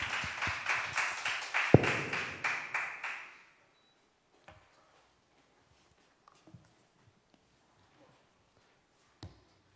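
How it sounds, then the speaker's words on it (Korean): A church youth-service congregation applauds to welcome a pastor: a short burst of rhythmic group clapping lasting about three seconds, then quiet with a few scattered knocks and movements. "목사님 나오실 때 박수로 환영하겠습니다"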